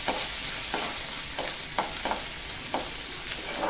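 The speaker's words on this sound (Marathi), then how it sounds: "छान लसूण लालसर होईपर्यंत परतून घ्यायचा।" Garlic, ginger and cloves sautéing in hot oil in a pan for a moong dal tadka, a steady soft sizzle broken by several sharp scraping stirs of a spoon against the pan.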